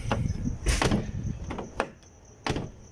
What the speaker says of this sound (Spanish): Al cerrar la puerta, esta puerta no cierra bien.